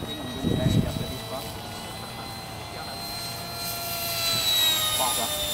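A micro electric ducted-fan model jet built from corrugated plastic flies past, giving a steady high whine with shifting tones that swell and fade, with faint voices nearby.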